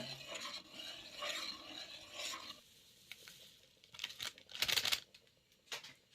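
A spoon stirs sweet potato payasam with raisins in a pot, making faint, irregular scraping and rubbing strokes, some brief and brighter, with quiet gaps between them and no talking.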